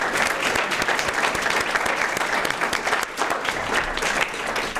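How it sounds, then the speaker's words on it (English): Sustained applause from an audience at a Rotary Club excellence award gathering, dense steady clapping filling the room at close range, continuous throughout without a break. "If we could have a round of applause for Darlene."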